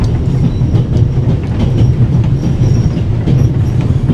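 Moving train in a video game, a loud close rumble of wheels on track with a rhythmic clickety-clack and faint high squeals, steady and continuous.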